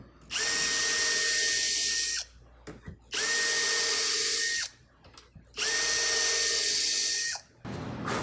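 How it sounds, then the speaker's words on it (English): A power drill with a self-centering Vix bit whines steadily in three long bursts while pre-drilling pilot holes for card table hinges, each a couple of seconds, separated by short pauses with small clicks and handling noises. "I like to use a Vicks bit, which is a self-centering bit."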